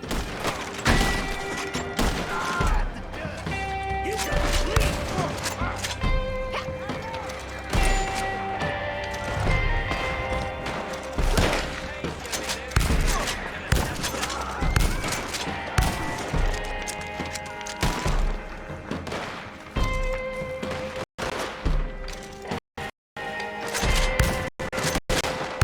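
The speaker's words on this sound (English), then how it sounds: "Stop shooting at my frames!" Gunfire in the video game Red Dead Redemption 2: a dense, sustained volley of sharp shots and crashing impacts over roughly 25 seconds, loud and close, with a few brief dropouts near the end.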